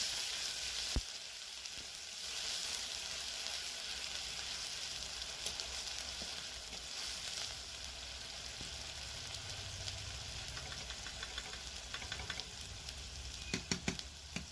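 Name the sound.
onion paste frying in oil for rui fish curry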